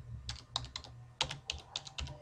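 Someone types on a computer keyboard while filling in an MS Word form, a quiet run of close, irregular key clicks with a few firmer taps.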